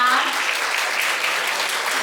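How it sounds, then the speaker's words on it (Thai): Guests at a wedding reception in a hotel ballroom applaud steadily, a dense, continuous clapping that stays loud throughout with a voice faintly at the start. "ถ้าทุกๆท่านเห็นด้วยขอเสียงปรบมือดังๆ"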